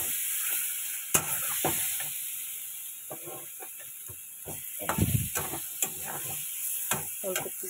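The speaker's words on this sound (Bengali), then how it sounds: "এবার আমি পটলটা দিয়ে দিচ্ছি, দিয়ে এটাকে ভালো মতন মিক্স করবো এর সাথে।" Pointed gourd pieces tipped into a pan of sizzling, well-fried spice masala and stirred, with a steady sizzle broken by repeated clattering spoon scrapes and knocks, close and moderately loud.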